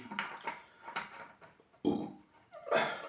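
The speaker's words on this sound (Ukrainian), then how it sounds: "О, чути, як я ригну, вибачаюся за відрижку" A person burps after drinking a Tropical Skittles drink, one loud close belch near the end and a shorter one just before, with other mouth and bottle noises earlier and no speech.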